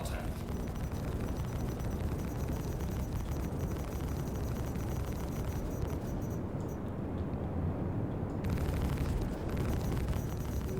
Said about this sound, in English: So it's those cannons whenever we hear the explosions?